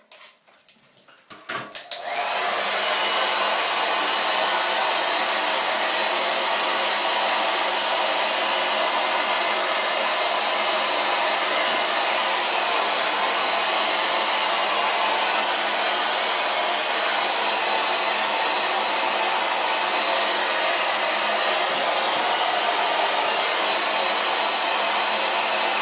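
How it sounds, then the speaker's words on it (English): Hair dryer blowing on hair roots during a gentleman's classic haircut, switching on after a brief pause and then roaring steadily and loudly for the rest of the clip, close and unbroken, with no talk. "have the hairdryer on the roots, and then just push it right over"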